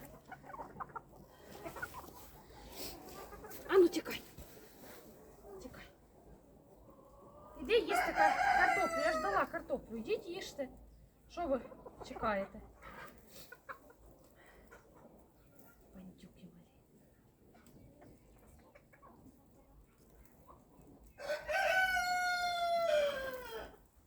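Hens clucking and a rooster crowing in a farmyard, with two long crows standing out loudly among scattered clucks, while someone talks nearby.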